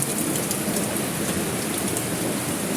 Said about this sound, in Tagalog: oras matatapos ang ulan na yan? Eh, masama pa naman ang panahon ngayon.